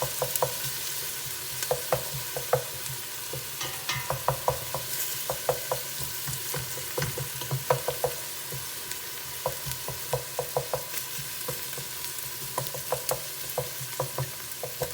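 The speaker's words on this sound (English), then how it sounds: "I love the smell of the saute of garlic and onions together." Garlic and onions sauté in a pan for a lamb ragu, a steady close sizzle with repeated scraping stirs and clicks of a utensil against the pan, no voices.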